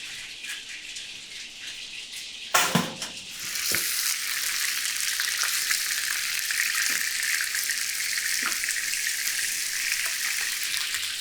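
Mushrooms fry in a hot pan, a steady close sizzle that swells into a loud continuous hiss after a sharp toss of the pan, with occasional faint pops and no talking.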